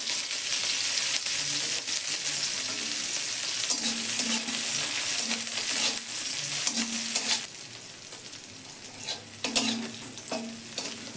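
Green chillies frying lightly in oil in a wok, a close crackling sizzle with frequent metallic stirring scrapes and taps, loud at first, then settling somewhat quieter, no talking.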